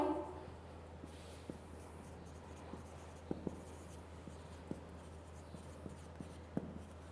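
Math written on a board during a lecture, faint scratchy strokes and small taps of the pen or chalk at an irregular pace over a low steady room hum, with no talking.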